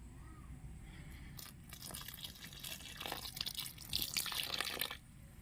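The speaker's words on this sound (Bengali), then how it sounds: "এরপর দিয়ে দিচ্ছি উষ্ণ গরম জল" Warm water is poured into flour for Bengali nimki dough, a quiet trickling and splashing that grows busier and louder toward the end, with faint crunchy mixing sounds and no talk.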